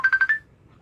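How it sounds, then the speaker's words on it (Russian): A telephone ringtone sounds in four quick, evenly spaced electronic pulses, loud and close, then stops, leaving near silence. "Да, ему звонят, Ика."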